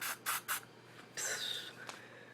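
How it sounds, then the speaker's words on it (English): Three short hissing bursts of Neutrogena spray-on sunscreen in quick succession, followed by a longer, softer hiss and a faint trailing puff, close by. "I like to use this Neutrogena sunscreen, and it's the spray-on."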